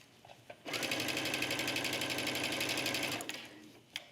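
Sewing machine stitching the back yoke seam of a trench coat, one steady continuous whir of rapid stitching for about two and a half seconds, starting and stopping abruptly with a few faint handling clicks around it.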